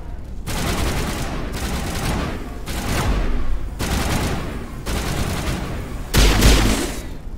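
Heavy sustained enemy gunfire in Mass Effect 1, loud and close, coming in repeated dense bursts of rapid shots with brief lulls between, and a heavier boom near the end.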